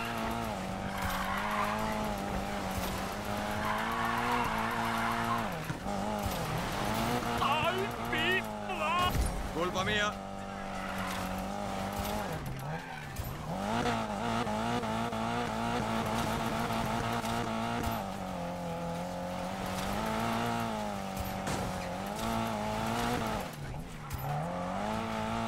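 Car drifting in the Need for Speed Payback racing video game, with a loud revving engine whose pitch rises and falls and sustained tire squeal through the slides, under near-continuous talk.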